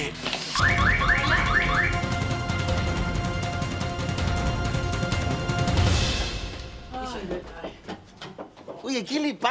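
A car alarm blares loudly and continuously, cycling through its warbling, repeating siren patterns for several seconds before cutting off, followed by scattered clattering sounds and a voice.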